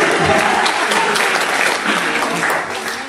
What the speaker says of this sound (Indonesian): Ya, tepuk tangan dulu ya, saya.